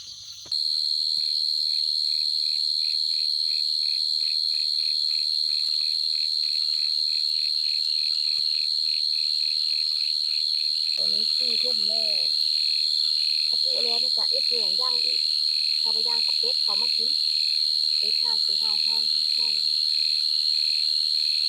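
Frogs croaking in short grouped bursts that stand out clearly against a loud, steady chorus of insects or frogs during a night of frog catching, with no talking.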